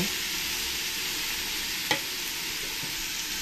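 Onions sizzle in hot ghee in a pan as the base for chicken biryani, giving a steady, even frying hiss, with one brief clink of a stirring utensil midway.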